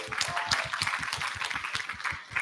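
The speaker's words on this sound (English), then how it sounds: "So join me to give these presenters a big round of applause." Applause for research presenters at Mbarara University of Science and Technology, brisk rhythmic clapping from a crowd, fairly close and even, with the beat holding steady before it eases slightly near the end.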